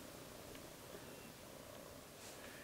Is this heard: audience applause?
no